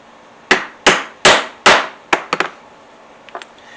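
A hammer strikes rivets into a leather cordless drill holster: four loud, evenly spaced blows, then a quicker cluster of lighter taps and a couple of faint ones, close by with no talk.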